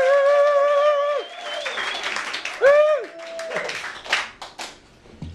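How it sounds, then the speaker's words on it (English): A comedy club crowd whoops and cheers loudly as the comedian Rick Pistol is introduced, with a short burst of hand clapping toward the end. "Lots of applause to tunes"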